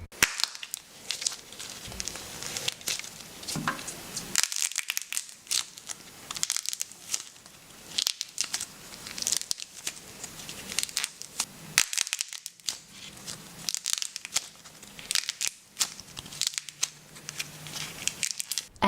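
Crunchy homemade clay cracking balls of the Little Monster type being crushed, close and loud, with sharp irregular crackles, snaps and crinkling crunches repeating steadily throughout.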